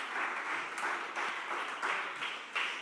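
Church congregation applauding during a pastor's sermon, a steady, dense clapping that swells in repeated waves for a few seconds with no voices over it.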